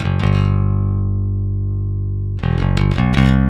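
A bass guitar with boosted highs driven into amp distortion: a loud, sustained gritty note that decays, then several quick clanky, metallic plucked notes.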